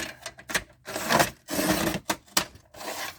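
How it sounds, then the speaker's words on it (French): Paper is cut for a handmade Christmas mini album. Close, dry cutting and rubbing bursts come in an uneven rhythm of short strokes and longer crisp swipes, with no voice. "Et je vais couper."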